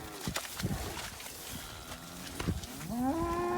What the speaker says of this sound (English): We're gonna go get these cows moved over now.